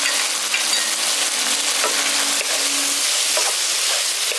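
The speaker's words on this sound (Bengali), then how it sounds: "এবার ভালো করে মশলার সঙ্গে একটু কষিয়ে নিচ্ছি।" Soybean chunks and raisins frying with spices in a pan for a soybean korma, a steady close sizzle with occasional stirring scrapes and no talk.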